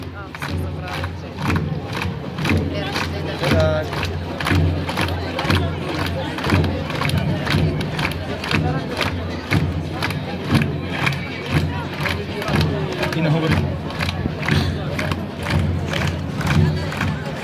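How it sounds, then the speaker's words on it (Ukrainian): A large outdoor crowd at a monument opening in Kamianets-Podilskyi cheers and claps for a children's brass band, a dense, steady roar of applause and shouts that holds loud throughout. "Ваші оплески духовим оркестром Хмельниччини"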